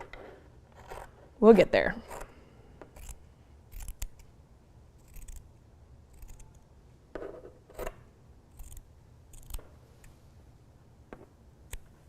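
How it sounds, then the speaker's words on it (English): Tiny scissors snip through fabric while a crochet tote is being made. One crisp cut stands out near the start, followed by quieter, scattered snips under occasional speech. "I forgot to grab my fabric shears. So, we'll just have to snip, snip, snip."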